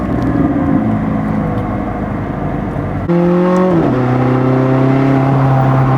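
A McLaren 600LT cruises onto the highway with a steady, loud engine and road drone. Partway through, the tone shifts to a clear sustained hum that slides down in pitch as the windows roll down.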